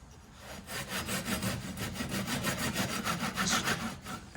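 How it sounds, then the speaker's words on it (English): A handsaw cuts excess plywood stringers off a boat frame during an ultralight nesting boat build, giving close, steady back-and-forth strokes in a quick, even rhythm that continue throughout. "Cut the plywood there."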